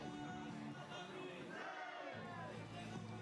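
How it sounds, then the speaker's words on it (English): Hardy supporters cheer for two teams at a rain-soaked youth archery bronze medal match between India and the USA, a steady crowd roar with shouts rising and falling throughout. "there's some hardy supporters out there still cheering on the two teams."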